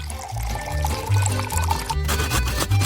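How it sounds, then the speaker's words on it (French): Whipped cream poured into a deep pan, a continuous soft liquid pouring and splashing sound lasting about three seconds, close and moderately loud, with no talking. "je dois verser de la crème fouettée dans une poêle profonde"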